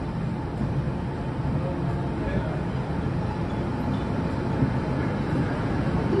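Taiwan Railway special train 6502 pulling out of Songshan station, a steady low rumble of rolling wagons with faint platform ambience, continuous and moderately distant.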